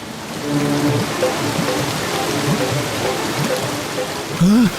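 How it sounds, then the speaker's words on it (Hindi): Steady broadband rush of a waterfall heard nearby, a continuous loud roar of falling water that fills the whole clip, with faint voices talking underneath. "हम झरने की तरफ बढ़ रहे हैं।"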